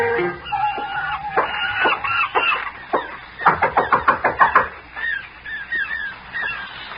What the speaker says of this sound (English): Stop knocking down the door.